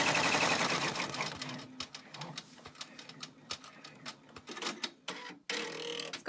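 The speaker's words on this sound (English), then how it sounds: "Just doing a cute little top stitch." An embroidery sewing machine top-stitches a key fob in the hoop, a fast irregular patter of needle taps and small clicks, fairly quiet and close, with a busier whirring stretch at the start.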